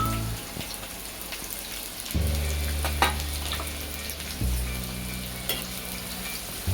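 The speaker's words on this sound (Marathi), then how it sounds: "कांदा व्यवस्थित परतून घेऊया आपण 1-2 मिनिटाचा" Chopped onion with cumin and curry leaves sizzles and fries in a hot pan, a steady crackling hiss with occasional stirring clicks, close up and without talk.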